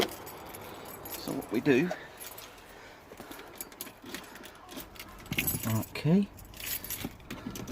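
Car keys jangle in two short bursts of metallic clinking for a Range Rover Vogue L322, with someone talking throughout.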